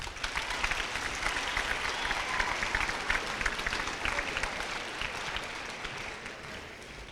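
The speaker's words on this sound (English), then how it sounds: "Another round of applause, please." Sustained audience applause at an eighth-grade school awards presentation, a steady wash of many hands clapping at moderate volume that fades slightly toward the end, with no speech.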